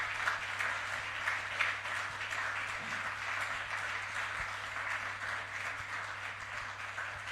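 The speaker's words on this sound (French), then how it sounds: "nous allons acclamer." A church congregation applauds, a broad, even wash of many hands clapping that carries on steadily for several seconds over a low electrical hum.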